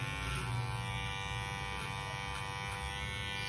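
An electric hair clipper fitted with a number 1 guard, cutting hair, produces a steady, close, continuous motor buzz throughout, with no talking.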